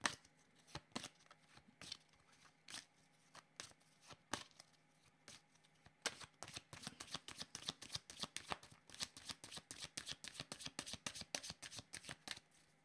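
Tarot cards are shuffled by hand, with scattered riffling bursts at first and then a dense run of rapid, evenly spaced flicks. The sound is close and clear, with no talking.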